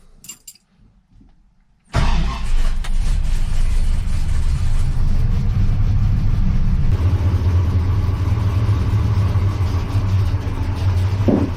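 After a few quiet rattles, the 440 V8 engine of a rusty 1962 Dodge Dart with a 4-speed cranks and catches, then runs with a deep steady idle rumble, close by, shifting slightly in tone partway through.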